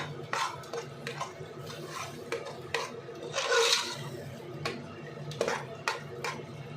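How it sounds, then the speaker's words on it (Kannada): Mushroom biryani ingredients mixed with thick curd in a pot: repeated close scraping and clinking of a spoon against the pot in an uneven rhythm, with no voices. "ಈಗ ಇದೆಲ್ಲ ಸ್ವಲ್ಪ ಚೆನ್ನಾಗಿ ಮಿಕ್ಸ್ ಮಾಡ್ಕೊಳ್ಳೋಣ"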